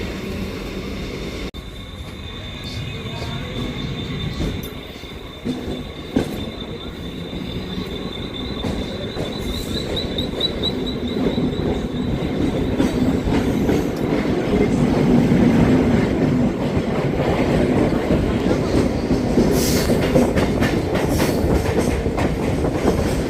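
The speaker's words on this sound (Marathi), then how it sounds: "गाईस आपली ट्रेन आली कर्जत" A Mumbai local train bound for Karjat runs steadily along the rails, rumbling loud and close with wheel squeals and a rhythmic clatter building over more than twenty seconds, with no talking.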